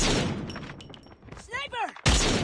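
Gunfire in a competitive shooter video game, a few sharp shots with a loud burst at the end, mixed with whistling game effects and a commentator talking underneath.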